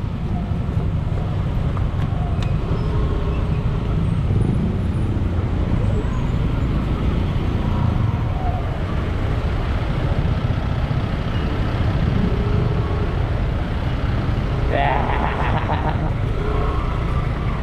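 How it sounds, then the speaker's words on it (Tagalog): Road traffic in Valenzuela, a constant broadband rumble of passing vehicles with low engine hum, steady and fairly loud, with a brief brighter clatter near the end. "Traffic."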